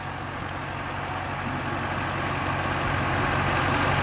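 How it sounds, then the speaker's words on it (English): A 2003 Topkick rollback truck's diesel engine idles in a steady, low, even rumble, close and continuous with no talk over it. "that's about as quiet of a diesel as I've ever heard"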